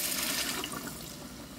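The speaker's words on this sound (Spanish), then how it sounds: "Ya le ponemos el agua." Water gushes steadily into a cooking pot for a fish sancocho with rice, a short, continuous pouring splash heard up close with no talking.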